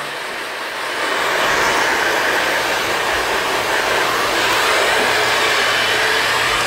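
A hair dryer blows on a salon model's medium-length layered haircut, switching on after a moment into a loud, close, steady rushing whoosh that holds without pause.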